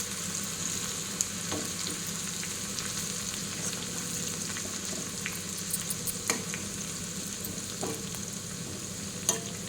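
Coarsely crushed garlic frying in hot tempering oil with cumin and mustard seeds, a steady soft sizzle with occasional small pops and faint stirring clicks, close and quiet, no talk.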